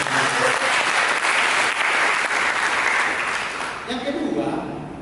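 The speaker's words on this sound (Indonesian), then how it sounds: "Mari kita berikan tepuk tangan." Church congregation applauding together, a loud dense wash of clapping that holds steady for several seconds before thinning out, with a voice rising over it near the end.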